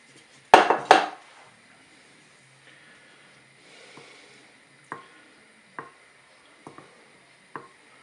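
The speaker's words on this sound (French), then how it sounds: "Je verse mon chocolat fondu dans mon saladier. Je mélange." Melted white chocolate being mixed in a salad bowl for a flan, starting with a couple of loud utensil clatters against the bowl, then sparse, evenly spaced clinks and taps as the spoon stirs.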